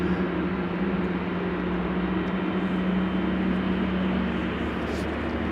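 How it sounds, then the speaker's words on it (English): An Airbus A320neo airliner landing at Amsterdam Schiphol gives off a continuous broad roar with a low engine hum, steady and fairly loud from a distance, with no voices heard. "That's an A320 Neo."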